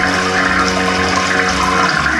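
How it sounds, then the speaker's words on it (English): A stuck toilet in India flushes nonstop, a loud, continuous rush of water churning close by without pause, with no voices over it. "all I tried to do is flush the toilet, and now it won't stop flushing"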